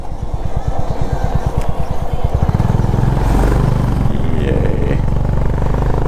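A motorcycle engine is heard from the rider's position on a toll highway during a road trip through Saurashtra. A pulsing idle-like throb builds into a loud, steady roar as the bike gathers speed, with heavy wind rumble underneath.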